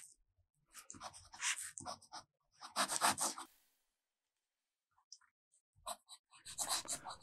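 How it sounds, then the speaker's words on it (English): Fountain pen nib scratching across 20-pound copy paper in close, quiet bursts of strokes separated by short pauses. "Just be aware that you're writing on 20-pound copy paper"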